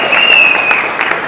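An audience claps at a movie title launch event, a brief burst of loud, close applause with a faint whistle-like tone riding over it.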